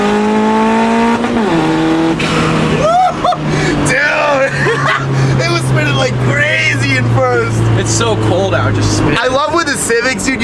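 A modified Honda Civic engine held against the rev limiter, a loud, sustained, buzzing drone that bounces at the cutoff and then drops away near the end, with excited voices talking over it.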